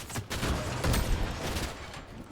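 Gunfire in Fortnite comes as a quick burst of several sharp shots within a couple of seconds, fairly quiet and set against game ambience.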